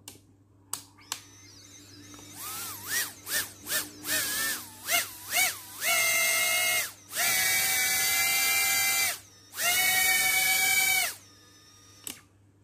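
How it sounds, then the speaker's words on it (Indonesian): A brushless 1s FPV drone motor gives a series of short throttle blips that rise and fall in pitch, then two longer sustained high-pitched runs before falling silent. "Oke, sekarang dengerin suaranya brushless."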